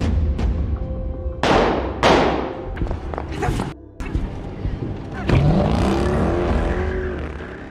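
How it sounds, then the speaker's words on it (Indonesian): A car chase scene from an action film: thuds and slams, then a car engine starts up and revs as the stolen vehicle pulls away, with dramatic music and voices mixed in. "pergi dengan mencuri mobil"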